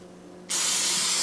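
After a brief quiet moment, a can of cooking spray hisses out a steady, close burst that continues to the end.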